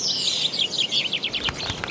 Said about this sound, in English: Good examples are the finches and starlings.